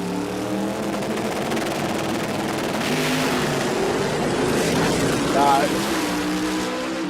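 A Hemi-powered Pro Mod drag racing car at the Brisbane Jamboree misfires and splutters, a rough, steady engine drone lasting throughout under the track commentary.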